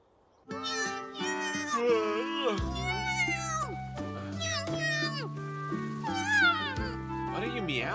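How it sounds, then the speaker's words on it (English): A cat meows in an English-dubbed anime, several bright, bending meows over a light music backing with voices mixed in. "What are you meowing at so early?"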